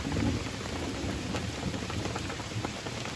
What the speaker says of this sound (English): Ooh, the thunderstorm.